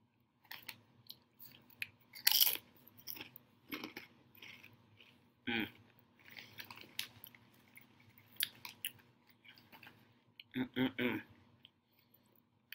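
Someone eats Doritos chips, with faint, sporadic crunches and chewing clicks spread across the stretch. Quiet bursts come in small irregular clusters, close to the mic, with no talk.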